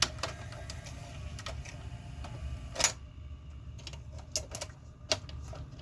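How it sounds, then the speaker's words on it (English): A Panasonic VCR eject mechanism with a loose loading assembly makes a string of irregular mechanical clicks, ticks and rattles over a low motor hum. A few sharper clacks stand out, and no one speaks. "So what happens when I hit eject?"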